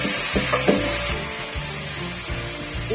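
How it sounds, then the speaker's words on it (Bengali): Bitter gourd frying with sour yogurt in a pan, a steady hiss of sizzling under intermittent scraping and stirring strokes, close and fairly loud. "টক দইটা দিয়ে কষিয়ে নিই ভালো করে।"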